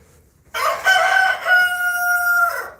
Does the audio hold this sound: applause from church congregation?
no